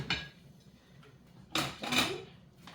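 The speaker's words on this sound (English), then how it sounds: "now we will place our prepared asparagus into the air fryer" Prepared asparagus set into an air fryer basket in a home kitchen: a few close clinks and clattery knocks of metal and plastic, two sharper bursts near the end, with quiet room tone between.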